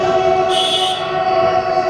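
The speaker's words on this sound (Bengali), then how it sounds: "ডিজেল লোকোমোটিভের হর্নটাই আলাদা লেভেলের।" Loud, steady diesel locomotive horn of the Sairang Express, sounding close and continuous, with a short brighter overtone burst in the middle of the blast.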